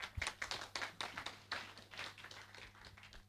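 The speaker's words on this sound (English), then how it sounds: "Applause again." A small audience at a university marine technology lecture claps for Professor Kevin Glover, faint and sparse with distinct individual hand claps that thin out toward the end.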